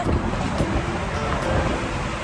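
Sea waves wash against the shore while steady wind buffets the microphone, a continuous, fairly loud roar with no speech over it.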